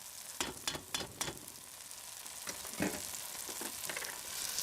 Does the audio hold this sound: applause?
no